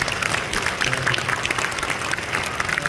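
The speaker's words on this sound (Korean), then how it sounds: "우리 성가대에게도 박수를 쳐드리고 우리 회장님께 한번 박수 쳐드립니다." A church congregation applauds the choir at a March 1st Independence Movement Day thanksgiving service, a dense, steady burst of clapping filling the room for a few seconds.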